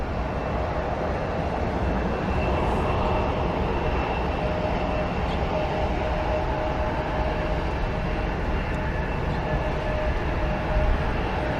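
Airliner engines at Columbus airport, a steady broad roar held at a distance for several seconds, loud and unbroken with no talk over it.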